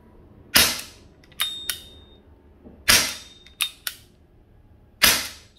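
A Chiappa Charging Rhino 50DS CO2 revolver fires five loud, sharp reports in a showroom, the shots coming in spaced pairs as it is worked in double and then single action, each crack ringing briefly.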